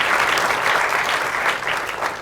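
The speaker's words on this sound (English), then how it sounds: "let's give them a round of applause." An audience at a climate conference plenary session gives the event staff a round of applause, a dense, sustained burst of clapping that fades slightly toward the end.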